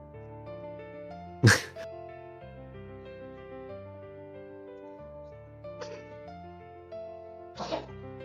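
A single sharp sneeze bursts out during a live Q&A stream over a steady soft musical backdrop, followed by two smaller breathy throat sounds a few seconds later.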